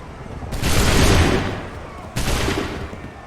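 Two loud musket volleys ring out in Assassin's Creed 3, each a broad, crackling blast of many guns firing at once, the first rolling on for about a second and the second hitting abruptly later.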